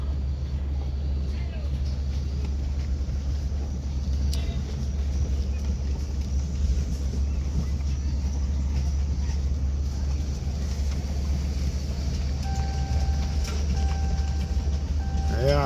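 A car cruises down the road with a steady low engine and road rumble that carries on throughout, loud and close from inside the vehicle.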